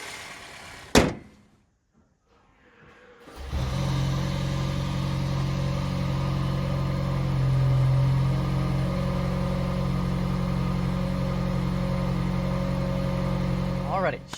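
2026 Toyota Crown Platinum luxury sedan, a click and short quiet gap, then the engine starts and settles into a steady low hum that continues to the end with a slight swell midway.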